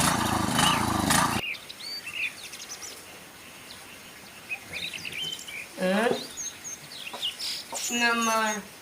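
Broody country hens and chicks on a farm cluck and chirp in short, scattered bursts nearby after a loud burst of other noise at the start, over a steady background hiss.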